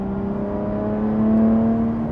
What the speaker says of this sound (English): We'll go to sport, and that changed the exhaust instantly.